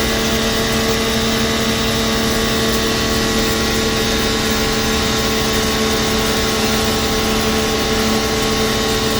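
A Bauer electric pressure washer runs steadily with the red nozzle fitted, a constant droning motor and pump whine under a broad hiss of spray, loud and unbroken with no voices.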